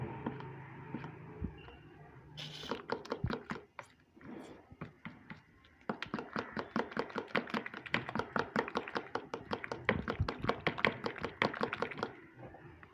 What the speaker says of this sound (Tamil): இப்போ இது எல்லாத்தையும் நல்லா மிக்ஸ் பண்ணிக்கலாம்.